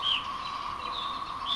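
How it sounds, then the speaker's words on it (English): Birds chirp in a quiet wooded neighborhood, thin high calls drifting at a distance over a faint steady background hum. "You can hear the birds and stuff"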